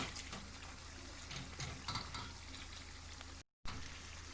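Pepper and tomato paste frying in a pan while being stirred, a quiet crackling sizzle with soft intermittent stirring, briefly cutting out near the end.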